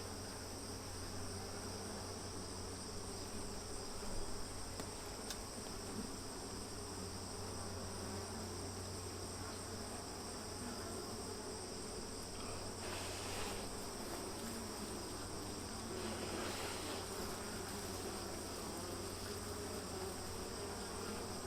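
Honeybees buzz steadily around an open hive frame partially drawn with comb and stored with pollen and nectar, a constant close drone with faint hum layers and no talking.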